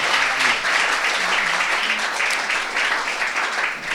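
A startup event crowd applauds a speaker, a full, sustained round of clapping that stays loud and then begins to thin toward the end.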